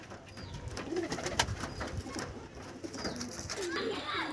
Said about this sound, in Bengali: কিন্তু পায়রা প্রচুর ছটফটে অ্যাক্টিভ পায়রা আছে,